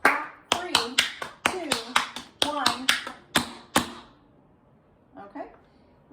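Tap dance paradiddle footwork: a rapid series of sharp, bright shoe taps and stomps in quick rhythmic clusters, loud and close, then a pause before a few faint softer sounds at the end.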